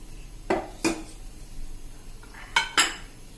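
Dhokli batter being mixed with a spoonful of oil in a metal pot, a few sharp spoon-on-pot clinks and scrapes in two pairs over a quiet background, close and with no talk.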